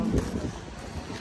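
Wind gusting across a boat on a trip at sea, a steady broadband rush with a stronger buffet near the start, continuous and close to the microphone.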